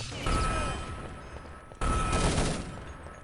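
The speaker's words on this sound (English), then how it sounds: "Perfect grenades by Irule." Grenade explosions in the video game Urban Zone, a dense burst of blasts and gunfire that cuts out briefly and then roars back, loud and close.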